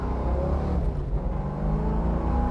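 A 1967 Ford Mustang Fastback with a 5-speed transmission rumbles at close range, its engine and exhaust giving a deep, steady, throaty drone with no voices.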